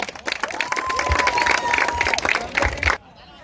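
A crowd applauds a team at a village cricket tournament's prize ceremony, steady clapping with some cheering that fills the space for about three seconds and then stops abruptly.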